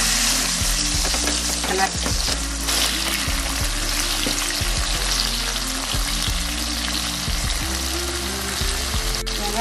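Whole small shallots, a cupful, fry and sizzle steadily in a pan of oil for a kind of neem-flower kara kuzhambu, with occasional stirring scrapes; a brief spoken word comes over the cooking.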